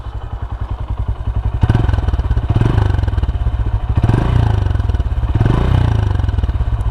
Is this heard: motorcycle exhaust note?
yes